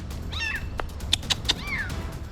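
A kitten stuck up a tree in Hempstead, New York gives two thin, high meows separated by a few sharp clicks and knocks, set against a low outdoor rumble.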